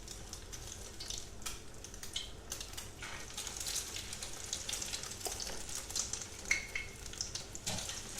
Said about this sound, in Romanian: Și când s-a încins uleiul, îi punem la prăjit.